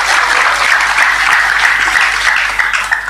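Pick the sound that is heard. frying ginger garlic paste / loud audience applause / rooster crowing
loud audience applause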